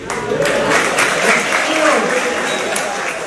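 Audience applause fills a youth gathering at a student house in Metro Lampung, a steady, loud burst of clapping from many hands sustained for a few seconds without pause.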